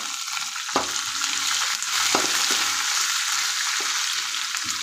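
Onions sizzle in hot oil in a pan for upma, a constant close frying hiss with a few sharp spatula clinks and stirring scrapes scattered through, no voices.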